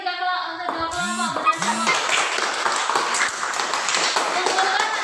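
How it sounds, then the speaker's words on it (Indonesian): Classroom applause for two student groups, a dense broadband patter of many hands clapping steadily through most of the clip, with a teacher's voice and some pitched vocal sounds at the start. "Tepuk tangan untuk dua kelompok."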